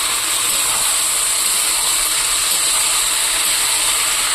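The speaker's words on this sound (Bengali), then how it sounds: "এর মধ্যে আমি সবজিটা তুলে দিচ্ছি, দিয়ে আমি এটা ভালো করে ভেজে নেবো" Vegetables frying in a pan with onion and tomato, giving a loud, steady, unbroken sizzling hiss close up, with no voices over it.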